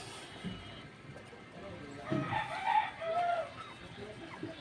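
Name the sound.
chicken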